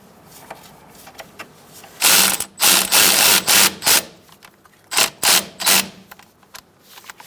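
A ratchet snugs down a 10 millimeter wheel speed sensor bolt on a 2014-2018 Subaru Forester, loud bursts of rapid clicking in several short strokes separated by pauses.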